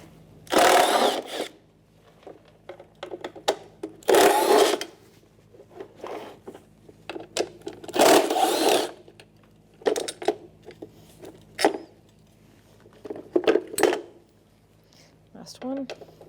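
A power driver with a 7mm socket backs out four mounting screws on a 2011-2021 Jeep Grand Cherokee window regulator carrier, sounding as several short whirring bursts with ratcheting clicks in between, while a person talks.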